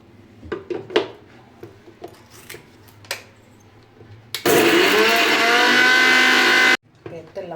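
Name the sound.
mixer grinder grinding green chili, coriander and mint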